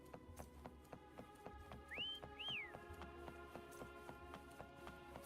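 In the video game Wuthering Waves, a character whistles to call Foam: two short, rising-then-falling whistle notes, faint and close together, over soft rhythmic tapping with no talking.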